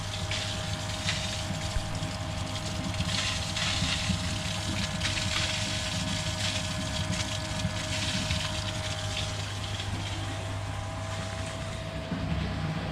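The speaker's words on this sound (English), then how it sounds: "just a washing machine kind of sound coming from the pump." A garden pond water pump runs with a steady churning, washing-machine-like whir and bubbling water, constant and moderately close throughout with no talk.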